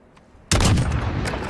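Gunfire in the video game Call of Duty Modern Warfare, a sudden loud burst of shots after a quiet moment, followed by a sustained rumbling echo and another sharp crack.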